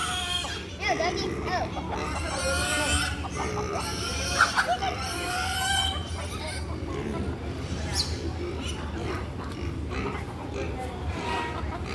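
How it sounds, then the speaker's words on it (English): Chickens cluck and squawk at a petting zoo, a busy overlapping chorus of fowl calls and crowing kept up throughout, with people talking nearby. "Look, there's some chickens over here."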